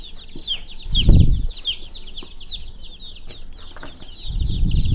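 Many chirping chickens peep continuously in a dense chorus, with low thumps and rustling close by.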